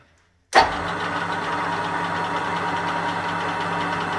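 A TV-320 metal lathe switched on in a workshop: silence, then a sudden loud start that settles immediately into a steady, continuous mechanical running hum and whine, with no talking.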